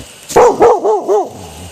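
A dog gives four quick, loud barks in a rising, slightly whining tone, close by, then falls quiet.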